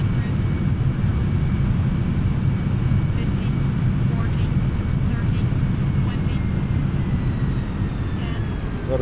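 A heavy MD-11 jet rumbles on final approach to land in a flight simulator, a steady low, loud engine roar that holds evenly throughout.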